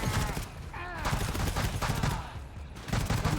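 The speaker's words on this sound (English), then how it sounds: "Oh, are you using the other machine gun variant?" Rapid bursts of machine gun fire from a game of GTFO, loud and crackling in uneven clusters, with brief voices talking underneath.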